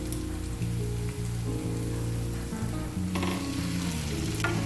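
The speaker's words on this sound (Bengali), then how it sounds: "এবার আমি সেদ্ধ করা কচুটা দিয়ে দেব মশলার মধ্যে।" Boiled taro dropped into a pan of hot, well-cooked spice masala, giving a loud, steady sizzle with stirring scrapes and no voices.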